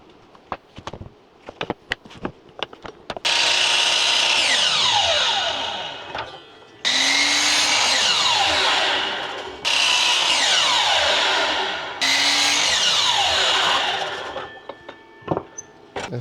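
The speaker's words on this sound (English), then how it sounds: "I need to put a couple of pilot holes here." A power drill bores pilot holes in wood during custom carpentry work, with three loud, sustained whirring bursts separated by short pauses, set between quieter clicks and handling knocks on the workbench.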